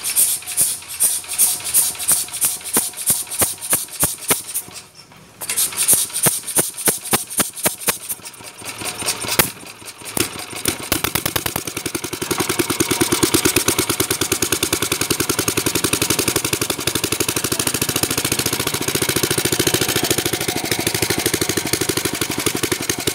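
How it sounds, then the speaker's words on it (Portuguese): A homemade motorcycle engine fires up with rapid, uneven popping bursts that briefly stutter and stall, then catches and settles into a steady, loud, continuous running drone close by. "Vamos ver se a moto vai pegar."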